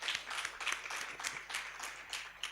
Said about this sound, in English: Let's clap for His Excellency the President.